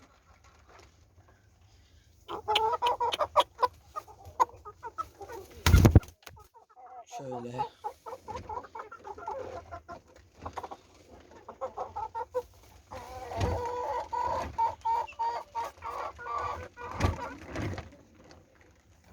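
Soft clucking from a broody hen and her small chicks, intermittent and close, with a brief clatter and a person speaking a word partway through.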